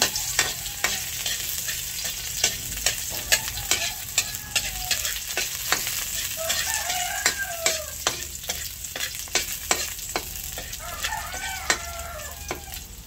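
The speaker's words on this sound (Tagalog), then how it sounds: "Igigisa ko na po yung ricado, yung bawang" Garlic sautés in a pan for a Filipino chayote and ground meat dish, with a steady crackling sizzle and regular scraping stirs, while a rooster crows faintly in the background.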